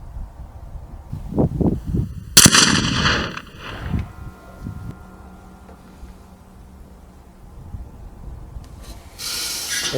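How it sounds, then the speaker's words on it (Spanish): One loud rifle shot cracks out during an outdoor target shooting test with a Konus scope, its report echoing and decaying into the distance amid wind noise and handling sounds. "Vamos a seguir realizando una serie de disparos."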